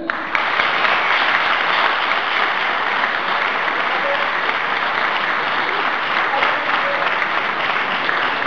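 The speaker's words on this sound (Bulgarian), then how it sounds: "Аплодисменти за Стоян Жунев," At a youth awards ceremony for the Lokomotiv Plovdiv football club, a crowd applauds third-place winner Stoyan Zhunev with loud, sustained clapping that holds steady for several seconds, a few faint voices mixed in.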